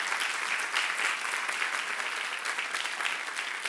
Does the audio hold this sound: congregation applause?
yes